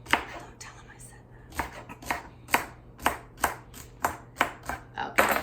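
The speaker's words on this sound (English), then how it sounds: "use my little handy chopper that my husband bought me" A small handheld kitchen chopper mincing onion, giving a steady series of about a dozen sharp, evenly spaced chopping pulses close up, with no talking.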